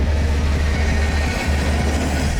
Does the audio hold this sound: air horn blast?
no